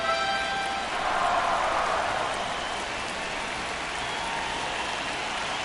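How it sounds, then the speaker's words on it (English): Steady rain pours during a Twins at Orioles baseball video game, a dense, even hiss of falling water holding at a constant level with no talk. "This rain is not letting up."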